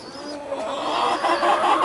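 Chickens clucking in a farm flock of mixed breeds that includes a small brown bantam, a steady close chorus of overlapping clucks that gradually grows a little louder.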